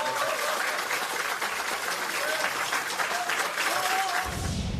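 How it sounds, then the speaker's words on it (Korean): Loud, sustained applause from a crowd of political supporters at a Democratic Party gathering, steady and dense throughout before cutting off near the end. "먼저 크게 박수 한번 치고 시작할게요"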